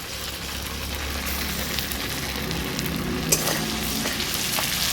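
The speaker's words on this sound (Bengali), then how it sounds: "ভালো করে নেড়ে চেড়ে নিচ্ছি" Ground mustard and poppy seed paste with green chilli fries in a pan for a pabda fish curry, giving a dense, continuous close sizzle with faint stirring scrapes throughout.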